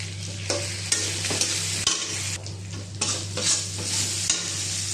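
Boiled taro and potato are stirred into a frying pan with tomato and spices, producing close, rhythmic scraping strokes over a soft sizzle and a low steady hum, with no voices.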